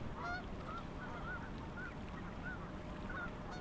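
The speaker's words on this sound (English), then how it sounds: "But geese flew overhead," Geese honking as they fly overhead near a lake, a steady series of nasal calls repeating every half second or so over a constant wind-like background.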